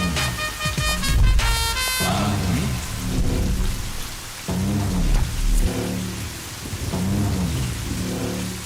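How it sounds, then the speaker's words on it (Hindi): Heavy rain pours down in a steady broadband hiss with rolling low thunder, accompanied by loud dramatic musical swells and hits throughout. "इतना बारिश गिर रहा है"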